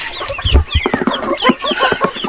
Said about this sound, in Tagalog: Tukain ka dyan. Malaking manok yan.